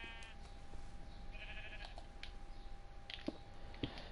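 Sheep bleat in a survival video game: a few short, faint bleats rise over a quiet background dotted with light clicks.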